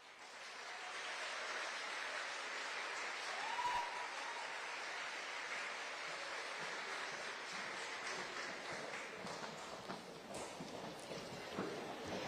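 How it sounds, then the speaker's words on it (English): Audience applause rises and holds steady as contestants leave the stage at the Miss Berkeley County Youth Fair Pageant, a dense wash of clapping that carries on with little change for the whole stretch. "please give them a big round of applause"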